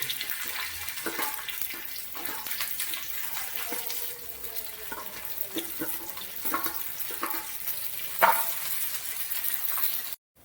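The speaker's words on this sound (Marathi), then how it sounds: "तेल गरम आहे मग मिरची आधी टाकून" Green chillies fry in hot oil for mirchi thecha, a soft continuous sizzle with occasional spoon stirs and light scraping, nearby and fairly quiet.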